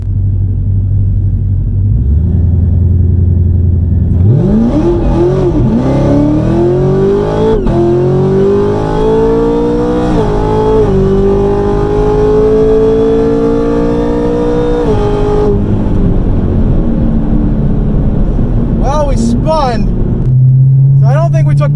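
A drag race car makes a pass at the track: a loud engine roar climbs steadily in pitch through the gears for about ten seconds, then cuts off abruptly, leaving a lower idle rumble.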